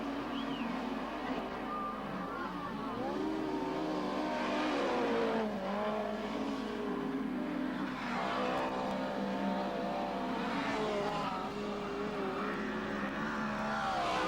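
Speedway race cars circling the Showground track, their engines a sustained layered drone that rises and falls as they pass, heard from the stands at moderate distance with no clear talk over it.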